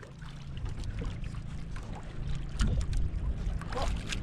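A large boat crowded with passengers moves across the water, giving a steady low rumble and a broad wash of water and wind that grows louder past the midpoint, with faint voices in the background.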